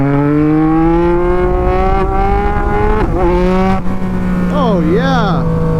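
Tuned Yamaha MT-09 motorcycle accelerating close up under throttle, its engine note climbing steadily in pitch, dipping briefly at a shift, then rising again, with a voice speaking briefly near the end.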